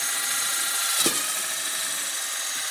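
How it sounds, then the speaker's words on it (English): A power drill whirs steadily through the center bore of a drain saddle for a few seconds, with a brief bite and louder moment near the start, close up and continuous. "I'm just going to run it down the center of this bore on this drain saddle and drill it out"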